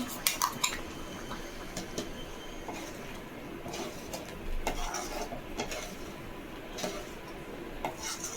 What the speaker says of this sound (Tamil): இப்போ அரைச்ச தேங்காவை அதில் எடுத்து போட்டுக்கலாம்.